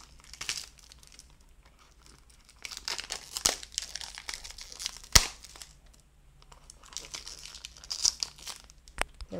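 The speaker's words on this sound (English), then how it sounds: "The plastic coverings are now off." Plastic packaging crinkles and tears off a boxed Tomica No. 80 Jeep Wrangler die-cast toy in bursts of close crumpling, with a few sharp rips and pauses between.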